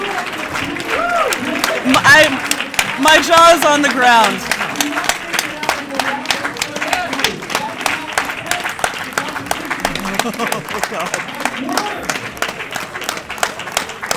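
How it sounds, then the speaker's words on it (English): A crowd at a Classic Tetris tournament stands and applauds, steady dense clapping throughout while excited commentators speak over it. "Everyone standing, applauding Harry and Matt."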